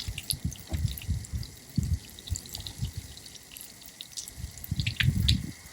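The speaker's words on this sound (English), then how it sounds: "Basically a low point drain. You just take those out and let the water drain out." Water runs from an opened low-point drain plug under a Grand Design RV being winterized. It sounds like a faint, uneven patter of drips and trickles, steady throughout and close by.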